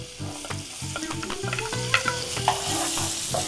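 Onion sautéing in butter and coconut oil, a bright continuous sizzle with repeated scraping strokes of a utensil against the pan at a quick, even rhythm, close and loud, no voices.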